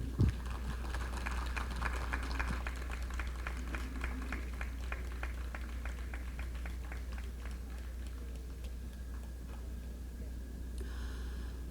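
Crowd applause at an outdoor memorial gathering for a sunken ship's crew, steady dense clapping throughout over a constant low hum, moderately loud, easing slightly toward the end.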